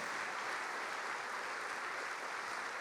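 A church congregation applauds during a sermon, a steady dense wash of clapping hands heard from within the crowd, continuous and even throughout with no voices standing out.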